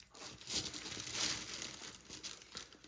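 Tissue paper and fabric crinkle and rustle while being handled at a sewing machine with a buttonhole attachment and template, a soft continuous papery rustling with a few louder crinkles, close and alone.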